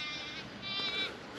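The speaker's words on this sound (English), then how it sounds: "I've really enjoyed these goats." Goats on a farm bleating, two or three wavering high-pitched calls overlapping at a moderate distance over steady outdoor background noise.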